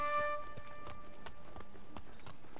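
Horse galloping in Ghost of Tsushima, a quick, even run of hoofbeats close and clear over a soft background bed.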